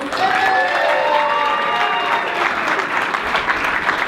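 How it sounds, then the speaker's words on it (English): Crowd at a Santino Bros wrestling show applauds steadily and loudly, broad clapping with some cheering mixed in, close and continuous throughout. "Let's give them a round of applause."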